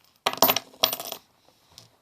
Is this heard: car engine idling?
no